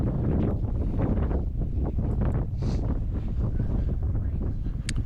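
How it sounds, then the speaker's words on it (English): Steady wind blows across open Sahara desert dunes near Merzouga, a continuous loud rushing roar that buffets the microphone throughout, with no voices or other sounds. "It's pretty incredible to be in a place with no noise except the wind."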